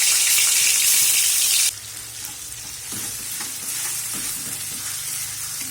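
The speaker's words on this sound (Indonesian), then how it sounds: "Panaskan secukupnya minyak, lalu tumis bumbunya" Ground paste of shallot, garlic, chili, tomato and ginger hitting hot oil in a pan, a loud hissing sizzle that drops sharply as it settles into a quieter steady frying crackle with a few stirring knocks, no talk.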